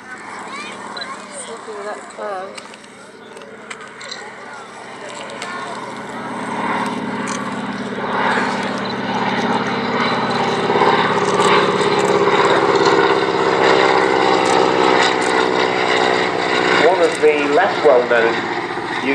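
Gladiator biplane flying at the Fly Navy airshow, a droning propeller engine that swells louder over time beneath continuous commentary.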